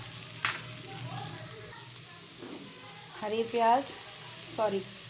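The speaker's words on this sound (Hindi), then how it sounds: "अब हम इसमें थोड़ा सा फ्राई करने के लिए गाजर डालेंगे" Carrots frying in a pan during chicken and vegetable pasta preparation, a soft sizzle under intermittent speech.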